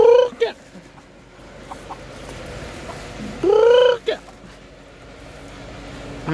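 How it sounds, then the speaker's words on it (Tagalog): Chickens feeding at an early-morning farmyard, mostly a low background murmur broken by two loud drawn-out fowl calls that sound almost like gobbles, plus a few short clucks and scattered movement. "pakain muna tayo manok."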